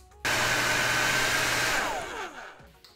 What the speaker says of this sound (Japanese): はい、じゃあ乾かしてみました。